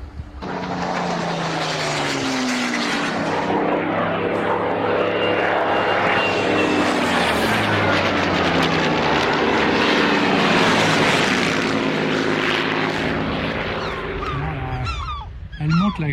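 Camera drone flown over a castle grounds beside an old fish pond, its buzzing engine drone steady and loud throughout while geese honk repeatedly nearby.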